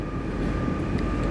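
RER C Z20900 commuter train running between stations in Paris, a steady loud rumble of wheels and motors with a constant whine on top, heard from inside the train.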